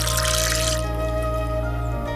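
Tap water in a mountain village of Uttarakhand's Darma Valley pours with a bright splashing rush that eases into a softer, steady trickle over about two seconds.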